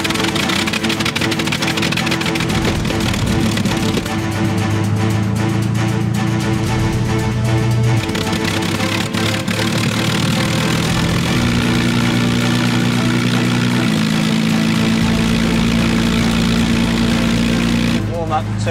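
A Spitfire fighter's piston engine starts and settles into a loud, steady idle close by, its low droning tone stepping up in pitch at a few points as it runs.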